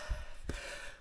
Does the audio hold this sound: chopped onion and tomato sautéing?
no